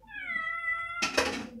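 Cat meowing indoors at home, a drawn-out tonal meow followed by a sharper, louder harsh cry, close to the listener with no talking.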